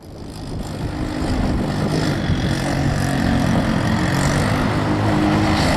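A go-kart with a GY6 150 engine and full suspension runs nearby, its motor rising from a quieter start into a loud, steady drone that holds for several seconds with no voices.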